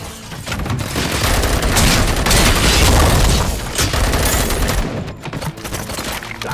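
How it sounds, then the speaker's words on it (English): Gunshots in the RoboCop: Rogue City video game, a dense loud fusillade of overlapping shots and booms that swells and fades over several seconds, with no speech. "Gunshots? What's going on?"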